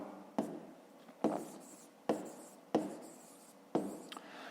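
Chalk or marker writing on a board during a fifth-grade maths lesson: five sharp strokes, each a distinct tap-and-scrape burst, about one second apart. The strokes are close and clear, with quiet gaps between them.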